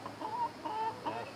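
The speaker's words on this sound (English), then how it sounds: "chickens are all here now." Chickens cluck in a run of three drawn-out, wavering calls, fairly close and clear, with no talking.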